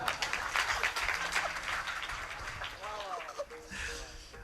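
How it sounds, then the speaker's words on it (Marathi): An audience at a kirtan claps in a brief burst of scattered applause, fading as a voice rises over it. "टाळ्या वाजवा."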